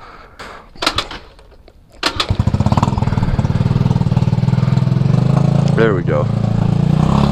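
A stunt scooter engine with a worn kickstart catches after a couple of kicks and settles into a loud, close, rapid putter at idle. Someone speaks briefly over it.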